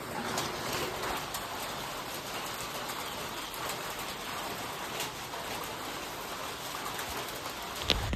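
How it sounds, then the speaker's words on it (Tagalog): Steady rain falling outdoors on a small farm, a constant even hiss throughout with pigeons or doves cooing faintly in the background. "Unya ning ulan man mga ka-agri so ni pasirong sa ta."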